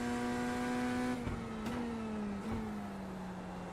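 In the iRacing sim, a GT3 race car engine holds a high, steady RPM, its loud, sustained drone sliding gradually lower as a couple of brief shifts break the tone.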